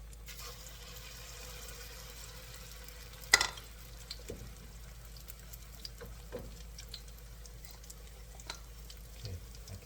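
Egg foo young patties fry in a pan with a soft, steady sizzle throughout, broken by a sharp utensil clink and a few quieter taps.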